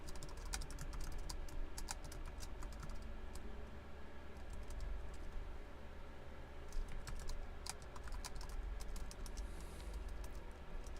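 Rapid clicking keystrokes on a computer keyboard run in uneven bursts with brief pauses, close and quiet over a steady low hum.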